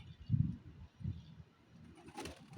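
Pigeons coo at an open loft, low soft murmuring calls in a few clustered bursts, fairly close, with faint background noise and a brief brighter rustle near the end.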